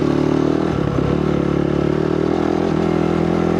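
Dirt motorcycle fitted with a 51-tooth rear sprocket, its back wheel spinning in desert sand, holds a steady loud mid-pitched engine drone with a brief rough clatter and rev change near the start, close to the rider.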